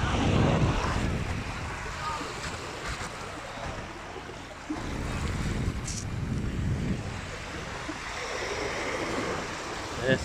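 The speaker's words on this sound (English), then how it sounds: "Yeah, it's a nice sand beach." Waves wash steadily onto a sand beach at Torre Abbey Sands in Torquay, with strong wind buffeting the microphone throughout while someone paddles in the water; the surf rumble is continuous and fairly loud.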